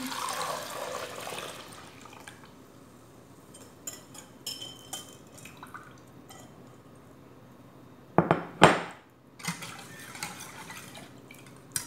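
A spoon clinks and scrapes against a metal pot while stirring a Milo biscuit pudding mixture, in scattered bursts, with a cluster of louder clanks partway through and soft liquid sounds between.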